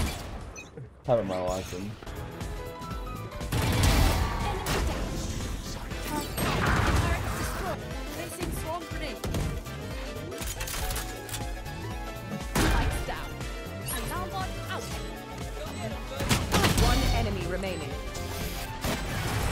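Gunfire and impact crashes from the shooter game Valorant, with repeated bursts and sharp hits across the stretch under frequent excited talk.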